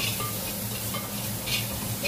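Tomato pulissery ingredients sautéing in a pan, a continuous close sizzle with scraping stirs of a utensil against the pan and a brief metallic clink, no one talking.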